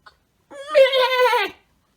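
A human voice imitates a goat's bleat during an outdoor children's story hour, giving one wavering, nasal "maaa" that lasts about a second, close and fairly loud, after a brief click.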